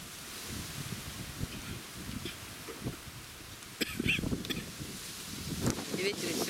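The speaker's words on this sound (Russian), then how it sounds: "И ветер сегодня." Wind gusting outdoors on a blustery day, a broad rushing roar with buffeting bursts against the microphone, rising and falling steadily throughout.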